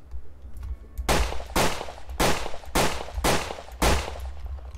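Six sharp, loud gunshots crack from a hammerless revolver in a Wild West video game, fired in a quick, slightly uneven sequence, each with a short ringing tail.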